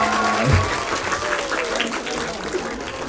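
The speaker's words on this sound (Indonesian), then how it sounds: "Tepuk tangan." A crowd claps loudly and steadily for the full stretch at an anniversary event, with some voices mixed in under the applause.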